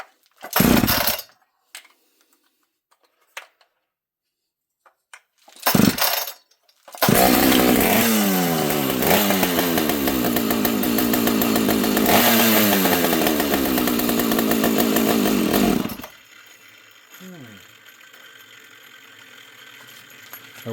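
A chainsaw comes alive after two brief bursts of cranking, then runs loud and steady with a rough, buzzing roar for about nine seconds before dropping to a quieter, lower idle that keeps running alone.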